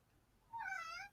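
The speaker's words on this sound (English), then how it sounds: "Sorry if you hear a dog and a cat in the background." A cat meows once in the background, a single drawn-out, rising-then-falling call that is faint and distant, with no talk over it.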